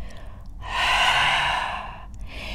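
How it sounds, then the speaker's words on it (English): A long, steady exhale through the mouth during a yoga flow, a soft breathy rush that swells and holds for over a second before fading, close and alone. "Inhale through the nose and we'll do a letting go breath through the mouth"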